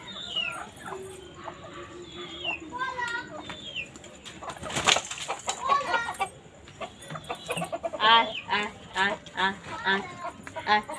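Chickens being let out of their coop cluck and squawk up close, with a burst of flapping wings midway and a steady run of calls after, while a person talks among them.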